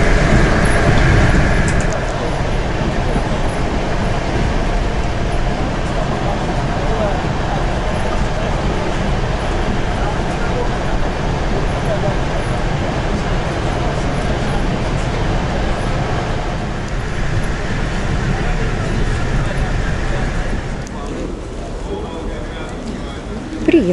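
Steady rumble of a passenger train bound for Moscow heard from inside the carriage, a continuous loud drone that eases near the end.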